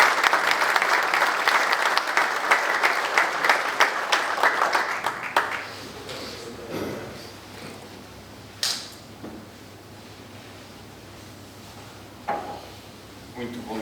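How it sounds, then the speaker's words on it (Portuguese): Conference audience applauds a professor at an anniversary event, dense clapping for about five seconds that fades into room noise with scattered knocks and faint voices. "Uma salva de palmas para o professor."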